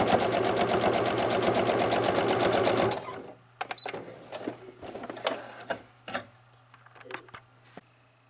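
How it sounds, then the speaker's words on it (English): Sewing machine stitching the hem of a fabric face mask with ties and pockets, a close rapid rhythmic whir for about three seconds, then stopping and giving way to faint handling clicks and rustles. "we are sewing along the inner edge and then just stitch it down in place"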